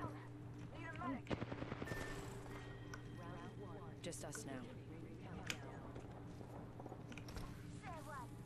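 A rapid burst of gunfire from a fight in the video game Apex Legends, a short run of sharp cracks near the start and scattered shots after, heard under ongoing talk and game noise.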